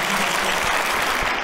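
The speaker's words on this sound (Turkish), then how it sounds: "kuvvetli bir alkış alalım emekleri için" Steady, dense applause from an audience at a shepherds' competition in Turkey, continuous and loud throughout without any talking over it.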